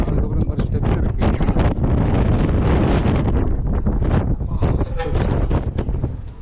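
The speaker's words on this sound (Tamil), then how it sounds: "செம காற்று அடிக்குது." Strong wind on Parvathamalai mountain roars loud and constant against the microphone, a heavy buffeting rush with gusty surges, and faint voices can be heard underneath.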